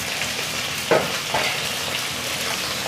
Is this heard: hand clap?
no